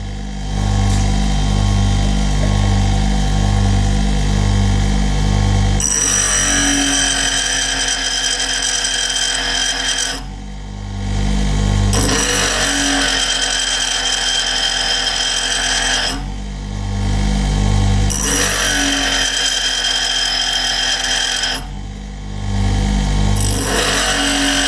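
A bench grinder sharpening a large high-speed steel drill gives loud, continuous grinding in long stretches, broken by short pauses where the motor hum carries on alone before grinding resumes.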